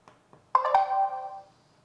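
An Arlo wireless doorbell chime rings indoors at home, a single melodic tone after a couple of faint clicks, sustained and fading over about a second.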